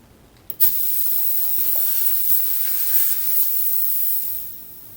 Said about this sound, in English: I'm going to go ahead and use a compressor